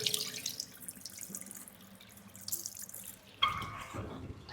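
Water runs from a small wash basin tap in the hall of a resale flat, a soft steady splashing stream that surges louder near the end.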